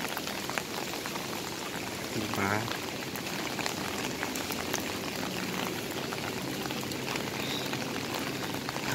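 Heavy rain pours steadily in a dense, constant hiss and patter close by, with a voice briefly heard over it.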